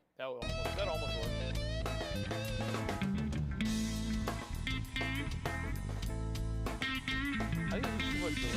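A live analog hybrid mix of electronic music plays with heavy delay echoes on the sound. It is dense and loud, with sustained synth tones over a steady low end, running continuously throughout.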